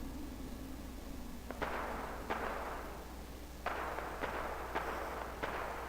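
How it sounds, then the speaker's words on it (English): Scattered gunshots in Fallout 4 crack at irregular intervals over a steady low hum, sounding fairly distant and muffled, about half a dozen bursts. "And I hear the sounds of gunfire down there."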